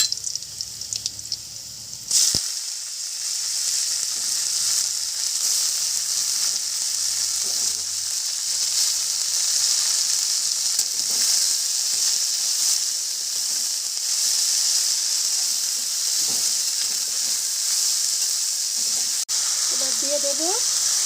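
Red amaranth greens drop into hot oil with crushed garlic, setting off a sudden loud burst of sizzling that settles into a steady, strong hiss of frying for the rest of the stretch.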